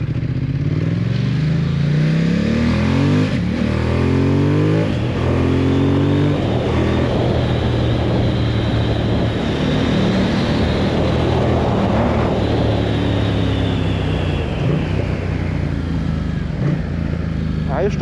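Ducati XDiavel motorcycle engine heard while riding on a main road, a loud steady rumble with rising revs and gear changes, running continuously under someone talking.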